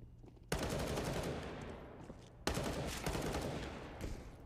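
Sustained automatic fire from an M4A1-S rifle in CS:GO, two long close bursts with a brief break between them, loud and continuous.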